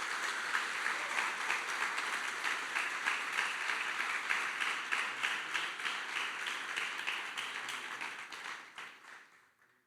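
A church congregation claps in praise, a dense, even round of applause held for several seconds that fades out at the end, with no one speaking over it.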